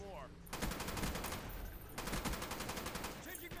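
Rapid bursts of gunfire in a shooter video game, two sustained volleys of fast repeated shots, loud and close, with a faint voice underneath.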